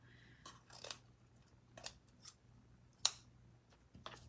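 Scissors snip ribbon for a Dollar Tree sunflower cross craft in several short, quiet, close cuts spaced across a few seconds, one crisper snip louder than the rest.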